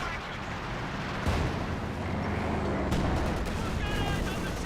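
Artillery barrage in Company of Heroes 2, a dense rumbling wall of booming explosions and gunfire, steady and loud throughout, with a sharper burst of impacts near the start of the second and another around the third.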